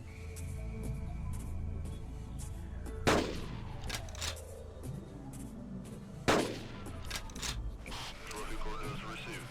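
Two loud, separate rifle shots in the dinosaur hunting game Carnivores, each with a long decaying echo, over an ambient game backdrop while a voice talks.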